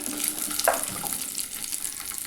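Dried red chillies and small shallots frying in oil in a pan, a steady close hiss of sizzling with a brief stir or clink partway through.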